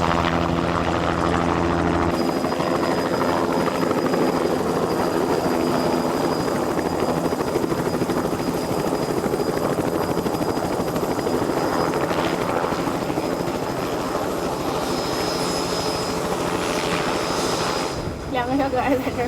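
A helicopter comes in to land near salt flats, its rotor and engine drone steady and loud for the whole stretch, with voices talking over it.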